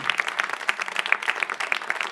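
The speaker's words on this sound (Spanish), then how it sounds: "Denle un aplauso al Señor." A church congregation applauding, a quick scattered patter of handclaps with some louder individual claps standing out, moderately close and steady for about two seconds, with no talk over it.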